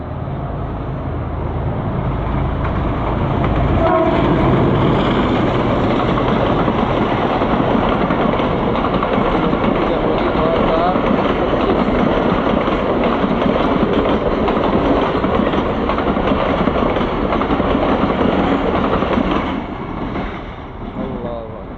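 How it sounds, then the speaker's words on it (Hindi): A train rumbles loudly and steadily as it draws near and rolls past a closed level crossing in Pakistan, a continuous heavy roar that fades near the end. "ये जो रेलगाड़ी आ रही है वहाँ से, वो लाइट देखें।"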